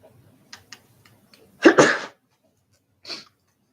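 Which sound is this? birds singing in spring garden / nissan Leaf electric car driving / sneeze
sneeze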